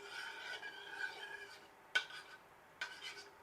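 Active dry yeast mixture being stirred in a bowl with a spoon, a soft rasping swirl with a few brighter clinks against the bowl, quiet and close, with no voices.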